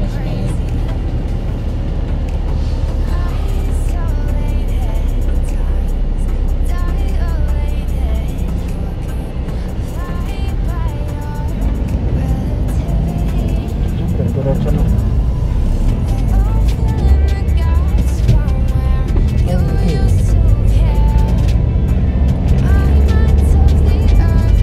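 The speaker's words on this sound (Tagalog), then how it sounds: "Ito na ang traffic na yan." Road traffic from inside a car sits under a constant low rumble, a dense continuous drone with passing vehicles and muffled music or voices mixed in.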